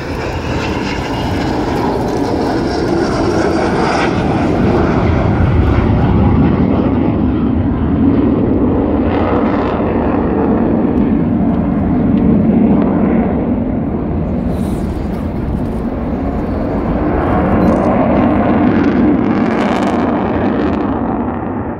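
Avro Vulcan jet bomber performing a solo air display, its engines roaring loud and continuous with a swelling, surging rumble as it passes, no voices.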